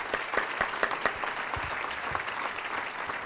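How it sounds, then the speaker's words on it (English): A community gathering's audience gives a round of applause to a group of gentlemen, a steady wash of clapping from many hands that stays fairly quiet and distant throughout. "I think we ought to give them a round of applause."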